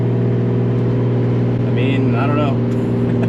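Nissan Z sports car engine running under a little turbo boost, a loud steady droning hum up close with a brief higher whine near the middle, while a person talks over it.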